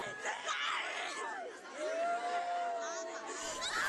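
Crowd of furious townspeople shouting and yelling demands for justice at a memorial for six people killed in a massacre, a dense roar of raised voices with individual cries rising out of it.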